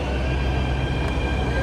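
A Delhi Metro train runs with a constant loud rumble and steady whine, the carriage noise filling the space throughout.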